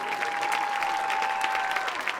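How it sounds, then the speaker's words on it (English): A crowd at a high school football game's band senior night breaks into continuous applause for the band seniors, with a thin steady tone running underneath the clapping for most of its length. "Let's give a big round of applause for all these band seniors."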